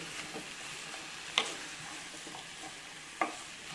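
Bottle gourd greens with stems and potatoes are stirred in a pan with a little water, turmeric and salt, giving a soft, quiet scraping and sizzling with two sharp utensil clicks against the pan.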